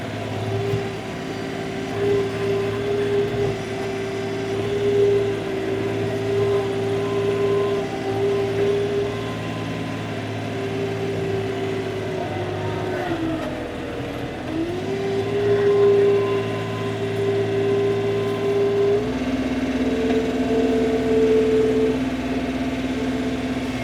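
A skid steer tractor engine runs steadily while clearing snow with a large bucket, holding a loud, close rumble with a dip and pitch change midway as it works, then settling at a lower tone.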